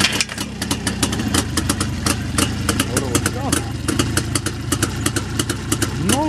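Engine 360 built on a 354 base, a peculiar motor with questionable parts quality, starting up and running with a steady, busy mid-pitched clatter and rapid regular ticking, close and loud throughout, with faint talk underneath.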